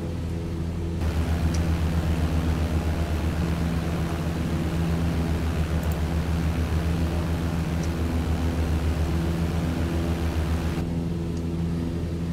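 Cessna 152 light aircraft in cruise flight between Newcastle and Carlisle, its piston engine and propeller a steady loud drone with an even droning hum held throughout, heard from inside the cabin.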